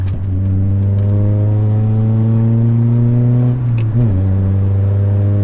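A Honda Prelude engine drones at a steady pitch while cornering, rising slightly, then dips and rises again near the end as if shifting through a turn; close and loud.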